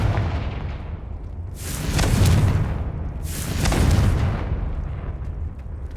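A Confringo fire spell explodes in the Hogwarts Legacy video game, two heavy booming blasts a couple of seconds apart rising out of a steady rumble, loud and close, with no talking.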